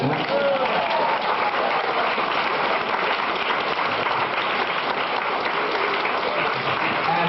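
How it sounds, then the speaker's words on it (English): Sustained audience applause fills a 1990 Maryland lecture hall after a call to cheer Gorbachev, dense and steady from start to finish with crowd noise mixed in. "How about a round of applause for Gorbachev?"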